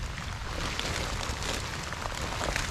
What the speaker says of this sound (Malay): Oh hujan lebat pula sahabat